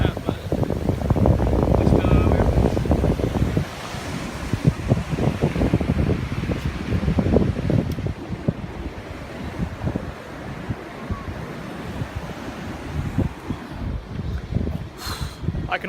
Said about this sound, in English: Sorry if it's kind of windy.